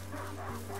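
Dog in the video game A Plague Tale: Innocence gives a short, close yip over a steady low game hum lasting under a second.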